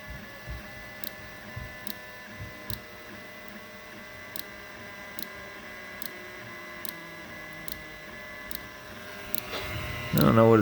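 Creality CR-100 3D printer running its startup routine, with a steady motor whir and hum, regular faint ticks, and a brief louder whirring burst near the end, close by without talk.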